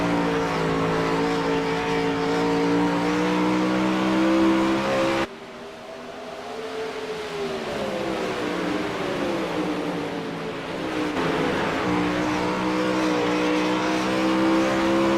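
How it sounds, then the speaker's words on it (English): A loud race car engine drones steadily, then its pitch drops sharply as the revs fall away before climbing back up again. "If you can hear that engine kind of calm right down"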